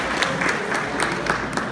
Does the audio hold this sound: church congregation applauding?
yes